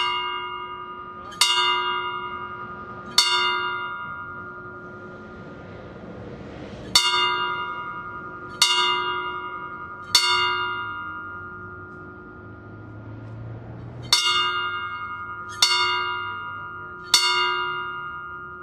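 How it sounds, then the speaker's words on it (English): A single memorial bell is struck repeatedly in three groups of three at a September 11 memorial ceremony, each clear metallic strike ringing out and fading slowly, with a faint murmur in between. "Our honor guard will now sound the ringing of the bells, three groups"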